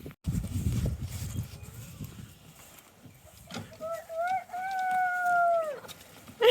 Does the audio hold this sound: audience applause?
no